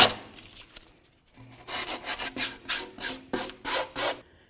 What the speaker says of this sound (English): go ahead and scrape off any large chunks that you might see around that could cause an issue